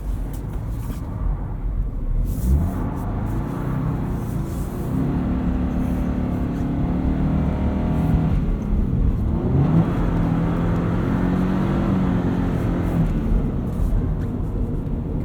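A Subaru BRZ driving in snow, heard as a steady engine drone from inside the car with rising revs and gear changes, loud and continuous.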